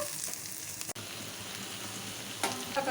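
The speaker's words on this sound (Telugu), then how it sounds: "ఆనియన్స్, తాలింపు దినుసులు, ఎండుమిర్చి, కరివేపాకు అన్నీ వేసుకొని ఆయిల్లో ఫ్రై చేసుకుంటున్నాను" Chopped ivy gourd fries in hot oil with onions, tempering spices, dried red chillies and curry leaves. A steady, close sizzle runs throughout, with a sharp tap partway and a brief stirring scrape near the end, and no talking.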